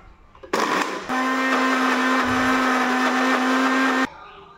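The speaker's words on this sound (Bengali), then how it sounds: "স্বাদ মতো লবণ দিয়ে এগুলোকে ব্লেন্ড করে নিচ্ছি।" A kitchen blender whirs loudly, grinding dried chepa fish paste with raw mustard oil and salt, starting with a short burst then a steady high-pitched motor drone that stops cleanly after a few seconds.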